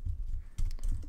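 A computer keyboard clatters with quick, close taps as an email address is typed into a login form, with a short pause midway.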